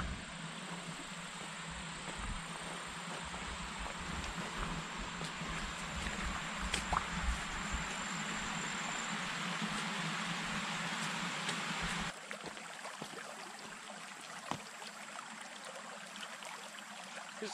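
Forester's Creek, a mountain creek, pours down a spillway into a pond, giving a steady broadband rush of flowing water that drops in level partway through and continues more quietly.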